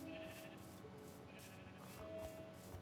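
Sheep in Minecraft bleating softly in a farm area, two faint drawn-out bleats a couple of seconds apart over quiet background sound.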